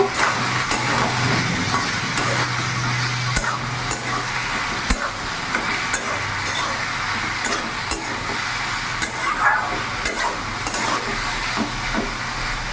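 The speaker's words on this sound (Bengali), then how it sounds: "এবার ভালো করে একবার নাড়াচাড়া করে মিশিয়ে নেব।" Taro stolons and prawns are stirred in a pan over medium heat, giving a steady sizzle with repeated clicks and scrapes of a spatula against the metal.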